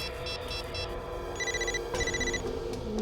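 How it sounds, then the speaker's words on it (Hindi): A telephone rings from inside a drawer, its electronic ring repeating in short bursts over a low room hum, muffled and moderately near. "फोन कहां बज रहा है?"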